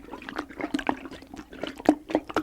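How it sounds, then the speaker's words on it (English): Water sloshes and gurgles inside a rubber hot water bottle in a series of close, soft liquid swishes and glugs, irregular in rhythm and intimate in tone. "it is a hot water bottle"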